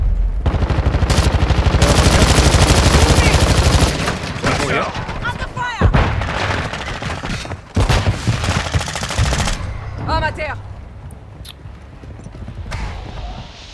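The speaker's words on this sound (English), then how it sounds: "Hearing shots?" Rapid gunfire bursts in a Warzone zombies mode match, loud and dense at first, then sporadic shots and thuds, with voices talking over the action.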